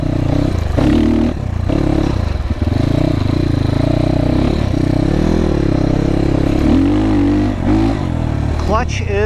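A GPX FSE300R motorcycle engine hums loud and close while riding, a steady mid-pitched drone with shifting tones and a rev rise at the end, under rushing wind.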